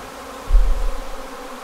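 A low, steady buzz of a healthy honey bee colony, continuous and close, with a slight swell partway through.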